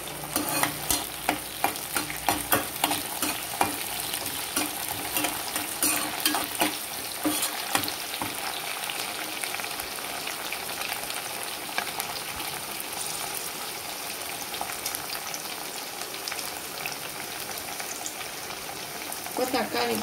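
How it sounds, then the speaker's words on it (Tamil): Onions and curry leaves sauté in a pan for a Tamil fish curry, giving a steady close sizzle with stirring clatter and scraping, busiest at the start. "ரொம்ப வதக்கணும்னு அவசியம் இல்லை, ஓரளவு வெங்காயம் வதங்கினா போதும்."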